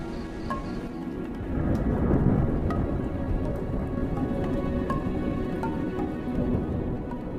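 Deep thunder rolls over the African savanna amid a steady patter of rain, the rumble peaking early and lingering beneath a continuous hiss of drops, with no voices.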